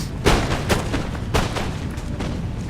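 Musket volleys from troops in a 2v2 multiplayer battle of Empire: Total War crack out as several loud, separate shots, with sharp bursts spaced irregularly over a few seconds and no voices over them.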